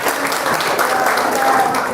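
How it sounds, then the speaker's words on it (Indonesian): Steady, dense applause from an audience at a 2023 teacher-training exam lecture at IAIN Kediri, filling the whole stretch at an even level with a faint background voice. "Tepuk tangan."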